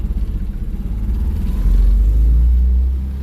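A car engine rumbles low and steady, then swells louder as it accelerates, a deep mechanical drone with no talking.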